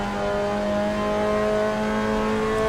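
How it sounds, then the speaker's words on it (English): Mazda MX-5 Cup race car in Assetto Corsa at Suzuka, engine held high in second gear with a loud, steady buzzing rev and a strong harmonic whine, continuous throughout with no talk. "I'm definitely letting that rev too hard in second."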